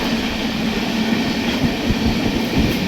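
Steady rumbling roar inside a moving Indian passenger train on the long run from Chennai toward Vijayawada Junction, with a constant broadband rush and soft low thumps of wheels on track, no voices.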